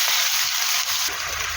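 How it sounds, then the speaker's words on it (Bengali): Chopped onions with salt fry lightly in hot oil, giving a steady, close, bright sizzle that holds evenly through the moment with no voices. "আমি এখন হালকাভাবে পেঁয়াজটা ভাজবো"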